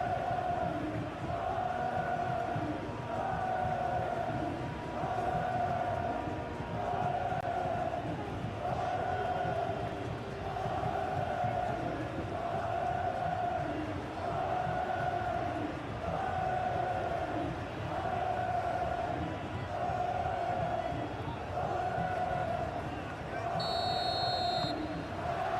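Synthetic stadium crowd noise from PES 21 football, a steady loud roar with rhythmic chanting swells throughout, mixed under a commentator's voice.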